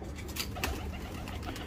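Pigeons at a Dubai pigeon club coo softly nearby, with a few short throaty calls and light rustling over a steady background murmur.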